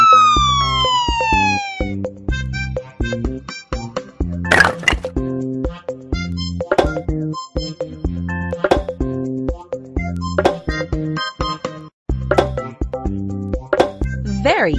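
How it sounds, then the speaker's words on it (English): Police car siren: rising and falling electronic wails at the start, then given way to upbeat children's music with bright clinking accents. "Police car."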